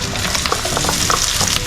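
Onion and garlic frying in a pan, a short burst of steady sizzling with stirring scrapes close up.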